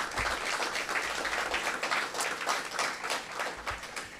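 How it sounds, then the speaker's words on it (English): A round of applause fills the room at a club breakfast, steady dense clapping from a seated crowd held at a moderate level throughout, with no voices over it. "Let's give him a round of applause"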